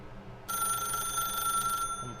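A telephone bell rings in one steady, bright, sustained burst lasting over a second, clear and close, then cuts off into quiet room tone.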